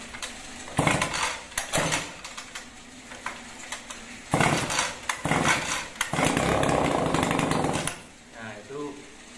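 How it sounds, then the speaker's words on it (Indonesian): A small 26 cc two-stroke engine on a pest spray machine being pull-started with the choke on: repeated loud bursts of coughing engine revving, several short firing attempts with pauses between, close by. "itu dicuk udah mau nyala ya"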